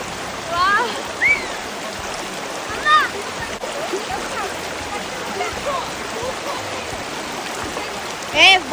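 River water flows steadily at a scenic riverside spot, a continuous broadband rush running throughout with a few brief splashes and bird-like chirps on top, fairly close and moderately loud.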